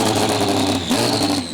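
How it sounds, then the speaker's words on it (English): Race car engines for the Mazda Road to Indy series at Barber Motorsports Park fire up and rev together, a loud, dense, continuous mechanical roar with whirring tones shifting in pitch, close and constant throughout. "Drivers, start your Mazda engines."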